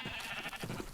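Sheep bleating in the Minecraft video game, a couple of nasal blats close together within a second, loud and near with no talk over them.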